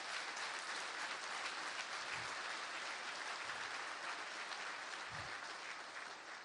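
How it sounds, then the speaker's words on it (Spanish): Audience at a Venezuelan national council installation led by President Nicolás Maduro breaks into sustained applause, a broad, even wash of many hands clapping that holds steady for several seconds, somewhat distant, with a few faint low thumps and no speech. "Eso merece un aplauso."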